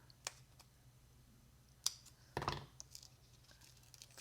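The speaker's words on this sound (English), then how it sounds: "I'm going to cut a piece of this border" Scissors snip through a paper border strip for a greeting card, with a few sharp, isolated cuts spaced apart and a longer crunchy cut near the end, heard close and quiet in an otherwise still room.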